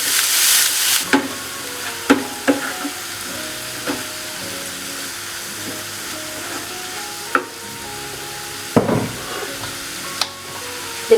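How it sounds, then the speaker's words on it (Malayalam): Onions sauté on a low flame for a spicy chicken roast: a steady, moderate sizzle runs throughout, broken by occasional sharp knocks and scrapes of a stirring spoon against the pan. "ചെറിയ തീയിൽ വെച്ചിട്ട് നമുക്കിത് വഴറ്റി കൊടുക്കാം."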